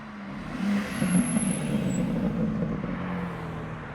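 A BMW G80 M3 fitted with catless downpipes rumbles along in traffic, its exhaust giving a low, steady burbling drone at moderate volume with no talk over it.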